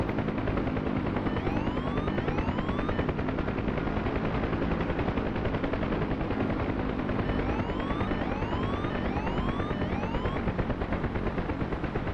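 A game helicopter's engine hums steadily and loudly on deck as the throttle comes down, a dense continuous rotor drone with faint rising whine tones sweeping through it and no clear wind-down.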